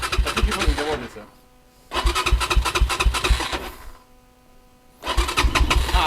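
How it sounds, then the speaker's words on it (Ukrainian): A Rottor F1 300 motorcycle engine cranks and sputters in repeated cold-start attempts, three rattling bursts separated by short pauses, close by, with a voice speaking near the mic. "А ну-ка, давай, перший холодний запуск."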